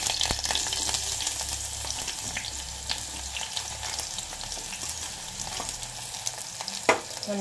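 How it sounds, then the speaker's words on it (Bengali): Eggplant sizzles in a hot pan with potato for a drumstick-flower curry, a steady close frying hiss with a few stirring clicks and one sharper knock near the end, no voices. "একটু নাড়াচাড়া করে নিয়েছি, করে নিয়ে এবার আমি দিয়ে দিচ্ছি এতে বেগুন।"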